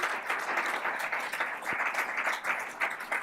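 An audience at an annual meeting applauds steadily, many hands clapping in a dense, even patter throughout, moderately loud and fairly close.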